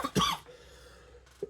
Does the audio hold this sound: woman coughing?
yes